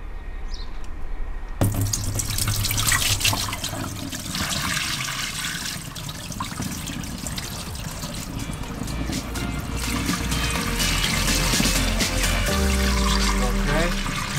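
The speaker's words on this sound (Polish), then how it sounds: "No to lejemy wodę." Water runs steadily from a tap into a camper van sink, a continuous gushing splash that starts abruptly after a brief quiet moment and keeps flowing.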